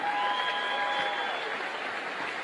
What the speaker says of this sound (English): Get the old man a round of applause.